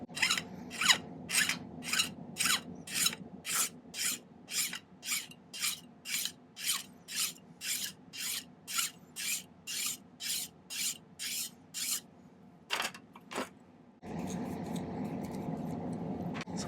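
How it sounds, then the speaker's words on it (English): A metal hand file rasps across a silver bracelet link in a long run of quick, even back-and-forth strokes, close and crisp, then pauses for a couple of stray scrapes before a softer rustling handling noise takes over. "And then I'll just use the file to take it all the way"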